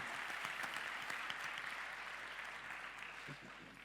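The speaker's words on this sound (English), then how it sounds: "Let's give a big round of applause to our brave panelists." A conference audience claps steadily for a few seconds for a panel, a dense wash of applause that slowly thins out toward the end.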